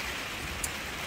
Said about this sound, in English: It's raining and it's actually really nice.